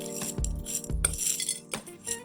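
Grated jaggery being mixed with coconut for a wheat cake, heard as a few spaced metal utensil clinks and scrapes against a dish, close and moderately loud with no talking.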